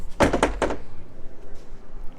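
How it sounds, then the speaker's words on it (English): A travel trailer cabinet door on a 2022 Jayco White Hawk 27RB shuts against its magnet catch, giving a quick cluster of close, hollow knocks followed by quiet. "magnets for the doors."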